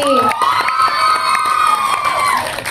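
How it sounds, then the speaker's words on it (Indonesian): A studio audience at a horror-film cast talk show cheers and shouts loudly, with a sustained high whoop over crowd noise and scattered claps. "tepuk tangan sekali lagi dong untuk Priestley"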